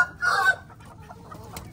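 A hen gives a short, close cluck, followed by a few softer low clucking sounds.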